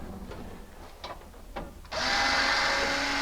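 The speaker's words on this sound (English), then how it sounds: "We are going to remove two Phillips screws here" A power screwdriver removing Phillips screws from a 1967-68 Cougar headlight door, a few light taps followed by a steady high-pitched whir, close and fairly quiet.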